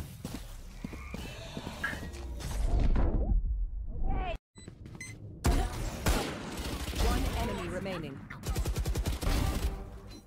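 Video game gunfire with dense bursts of shots, mixed with hoofbeats and other game effects, loud and busy throughout with a voice speaking over parts of it.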